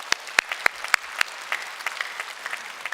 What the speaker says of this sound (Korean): 우리 식당에 수고하신 분들 큰 박수로 한번 격려하겠습니다